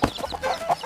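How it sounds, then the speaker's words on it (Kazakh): A hen clucks in a quick series of short, close calls, clear and fairly loud, with no voice over it. "Тауықтың баласы балапан, сары кішкентай балақан."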